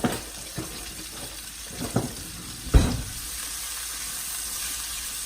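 Shredded beef seasoned with cumin and cayenne cooks in a pan, giving a soft, steady sizzle with a few stirring clatters and a louder knock near the middle before the frying settles into a constant hiss.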